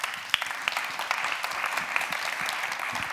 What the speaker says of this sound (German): bitte schön, Ihr Applaus